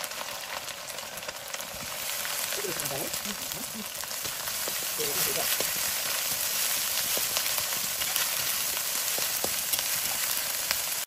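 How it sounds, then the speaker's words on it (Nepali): Garlic and ginger fry in a pan after meat for a village-style buff achar, a steady bright sizzle that swells slightly and continues evenly, with faint stirring scrapes. "त्यो सबै मासुहरू फ्राई गरेर राखेपछि लसुन र अदुवा फुराउन लाग्यो"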